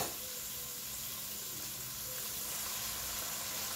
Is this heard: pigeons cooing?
no